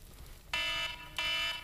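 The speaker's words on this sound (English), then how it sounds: "there's my iPhone alarm" An iPhone alarm rings in two bright electronic beeping bursts with a short gap between them, clear and fairly near, over faint background noise at an outdoor campfire cooking spot.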